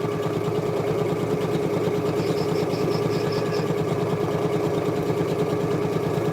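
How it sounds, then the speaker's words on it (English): Sewing machine set to a very slow speed while sewing a tote bag, a steady close mechanical whir and rapid chugging rhythm running continuously without pause. "this machine is set to sew very slowly"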